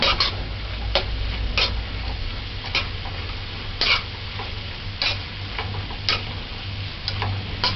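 A cabbage and fish stir-fry being stirred in a pan, with a steady sizzle underneath and irregular, close scraping and tapping strokes of the utensil against the pan.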